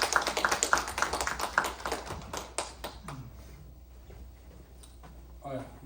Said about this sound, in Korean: 우리 목사님 나오실 때 우리 박수로 한번 환영합시다.